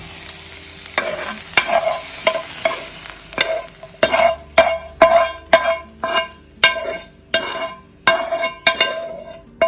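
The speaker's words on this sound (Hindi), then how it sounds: "इसमें ही चिकन को फ्राई करेंगे" Chicken fries in oil in a pan, with a steady sizzle beneath repeated scraping strokes of a utensil stirring the pieces, close and fairly loud, with no talk.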